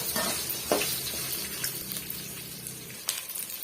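Onion and white garlic frying together in a pan for a drumstick-leaf chutney, a steady close sizzle with occasional stirring scrapes and soft crackles throughout, no talking.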